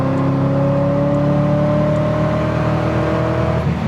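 A Datsun 240Z restomod pulls hard in 4th gear on the interstate, its engine a steady, loud drone that rises gradually in pitch under constant acceleration, with road and wind noise beneath it.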